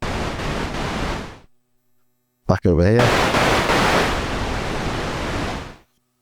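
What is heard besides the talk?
synthesizer noise generator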